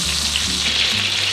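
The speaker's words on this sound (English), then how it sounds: "Now we're just going to fry it up in butter." Food frying in butter in a hot pan, a loud steady close sizzle with continuous crackle and no pause.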